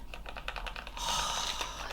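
Typing on a Keychron K8 Pro mechanical keyboard: a quick run of crisp, close key clicks in the first second, then a louder, hissier wash of keystrokes with no talking.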